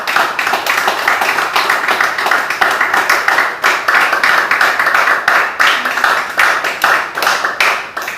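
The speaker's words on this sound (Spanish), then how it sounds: "¿Quién le da un aplauso al Señor?" A church congregation applauding during a sermon, with loud, sustained clapping from many hands in a continuous rapid patter, close and steady throughout.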